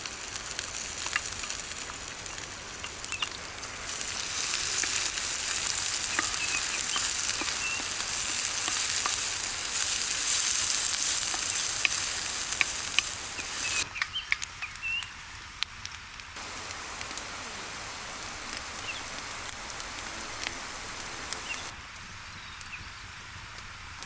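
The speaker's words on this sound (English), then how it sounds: "We continue by adding the diced green peppers." Diced green peppers frying with sausage in a pan outdoors, a continuous crackling sizzle with brief dips in intensity, close and alone.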